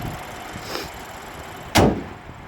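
A BMW 328i Gran Turismo door swings shut with a single solid, close thud, preceded by faint rustling and followed by a quiet settled interior.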